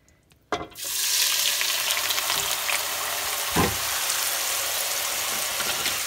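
Onion dropped into hot olive oil over a stove flame gives a sudden loud hiss that settles into a steady, dense sizzle of frying, with a faint stir or clink partway through.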